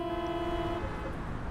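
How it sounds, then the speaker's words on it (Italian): A car horn honks steadily in traffic for nearly a second, loud and close, then cuts off, leaving a low rumble of engines. "Il rumore di un clacson. Poi un altro."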